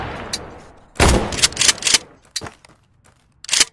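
Gunshots in the VR game Tactical Assault VR, a loud burst of rapid shots followed by several separate cracks spread over a few seconds, close and prominent with faint background between them.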